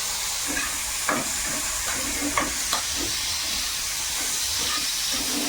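Bitter gourd frying in oil in a home kitchen, a steady close hiss and sizzle with a few sharp crackles and spatters breaking through, no talking.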